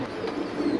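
Low, soft cooing from a pair of African Mundian pigeons, a murmuring throaty hum close by that swells slightly toward the end.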